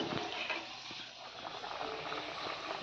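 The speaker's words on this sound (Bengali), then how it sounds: "ডালটা ফুটছে" Lentil dal with bottle gourd bubbling at a steady boil in a pot, a continuous soft gurgling and popping that stays close and fairly even throughout.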